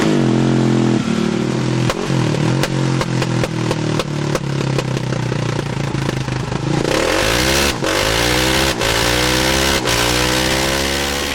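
A supermoto motorcycle engine runs hard on a dyno, with loud, sustained revving that climbs and falls in pitch and crackles with sharp pops along the way, close and without talk.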